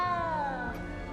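A small frightened cat meows in the Hogwarts Legacy video game: one drawn-out, falling meow with a slightly plaintive, wavering tone, close and clear.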